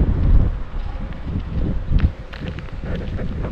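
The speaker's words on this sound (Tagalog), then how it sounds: "Ang lakas ng hangin." Strong wind roars and buffets the microphone in gusts, a dense low rumble with rustling over it, steady throughout with no talking.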